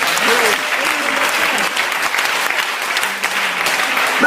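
Church congregation at a Sunday service claps and cheers in acclamation, a steady crowded wash of applause with voices calling out over it throughout.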